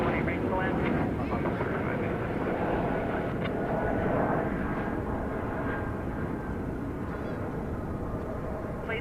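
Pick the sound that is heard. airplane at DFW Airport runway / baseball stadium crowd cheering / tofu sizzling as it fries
airplane at DFW Airport runway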